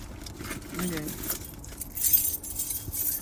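A bunch of keys jingles and clinks close by in several short bursts as someone rummages for one particular key, and a voice talks faintly now and then underneath.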